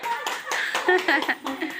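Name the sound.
audience clapping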